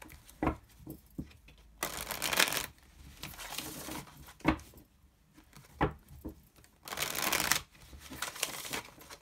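Tarot cards are shuffled close by in several brisk riffling bursts separated by short pauses and soft taps, with no talk.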